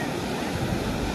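Rough sea waves crash and roar at a beach where red no-swimming flags fly, a dense continuous wash of surf with wind noise, loud and steady throughout with no talk.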